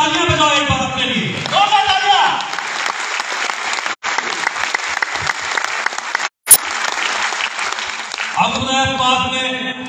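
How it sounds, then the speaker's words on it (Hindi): Audience applause at a corporate company speech event, a dense sustained clapping that runs through most of the stretch, briefly cut twice, with speech underneath at the start and end. "अपने तालियां बजाओ एक बार अपने लिए।"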